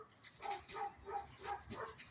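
A dog indoors gives a quick string of about five sharp, faint barks, evenly spaced and fairly near, with no talk over them.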